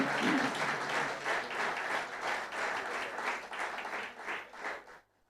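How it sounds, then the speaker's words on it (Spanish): A church congregation bursts into sustained applause, a thick wash of many hands clapping for about five seconds before it quickly fades to silence. "denle un fuerte aplauso a Cristo."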